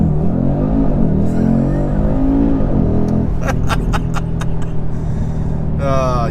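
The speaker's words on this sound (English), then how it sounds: "You really cannot beat 5-cylinder noise, can you?" A 2025 Audi RS3 five-cylinder engine pulls hard under launch control, with loud rising revs, a quick gearshift and then climbing again from inside the cabin.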